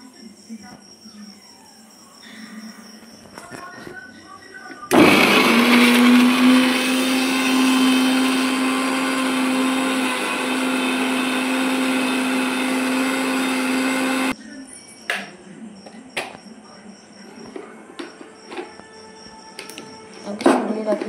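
An electric grinder crushes cumin, garlic, chili and ginger into a spice paste, a loud steady whirring burst of about ten seconds that starts and stops abruptly, with light kitchen clatter before and after.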